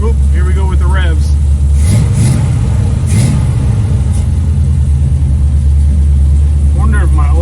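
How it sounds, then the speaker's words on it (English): A car engine revs up loudly during an engine cleaning, its droning pitch rising and falling over a constant rumble, while a person talks over it near the start and end. "here we go with the revs."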